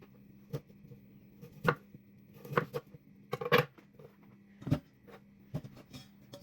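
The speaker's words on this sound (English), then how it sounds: "So I'm going to cut the blossom out" Knife cutting broccoli florets off the stem on a board, a series of irregular close, crisp cuts and taps over a faint steady hum.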